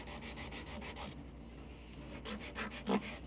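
Sandpaper rubbed back and forth on a wooden board for box building, soft close rhythmic scratching strokes, a brief pause midway and then more strokes, fairly quiet with no talk.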